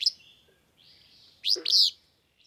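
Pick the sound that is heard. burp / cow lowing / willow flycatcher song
willow flycatcher song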